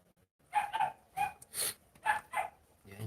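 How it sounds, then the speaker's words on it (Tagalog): A dog barks in a series of sharp yips and barks, about six bursts in quick clusters, fairly faint and set back in a home where lunch is being cooked. "Maingay po ang ating aso."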